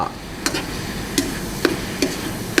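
Sago pork filling being stir-fried until its water dries, giving a few sharp spatula scrapes and taps against the pan at irregular intervals over a low, steady background hiss, with no voices.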